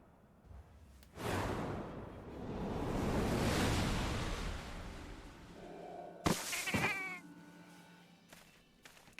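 A cat companion in Final Fantasy XIV meows in a few clear, close cries near the end, after a long rising whoosh like wind or surf.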